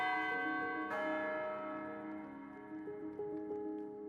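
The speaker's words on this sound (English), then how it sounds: "Ah, this is the bell tower." A bell rings in the bell tower of a Minecraft game town, one clear struck tone with long ringing harmonics that decay over a soft sustained musical background.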